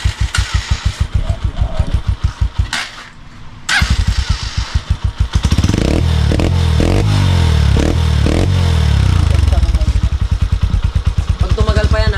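Honda TMX 125/155 motorcycle fitted with a chicken pipe exhaust, loud and close, idling with a rapid thumping beat, briefly dropping out, then revving up into a sustained roar before settling back to a choppy idle.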